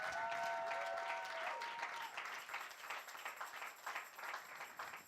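A church congregation at a worship service bursts into loud, dense applause that holds strong, then thins to scattered clapping with faint voices and a lingering tone in the background.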